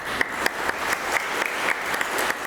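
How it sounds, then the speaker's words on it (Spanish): Audience applause at a lecture on conservation of a colonial-era religious sculpture, a brief, fairly even patter of clapping with a few sharper individual claps standing out. "recibámoslo con un fuerte aplauso"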